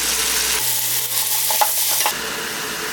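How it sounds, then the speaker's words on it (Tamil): Tomatoes and salt go onto sautéed onions for egg curry, bringing a loud, dense frying hiss. Soft stirring clinks sit under the sizzle before it settles back to a lower simmering crackle. "வெங்காயம் நல்லா வதங்கிருச்சு தக்காளி போட்டுக்கலாம் தக்காளி வதங்கிறதுக்கு உப்பு போட்டுக்கலாம்"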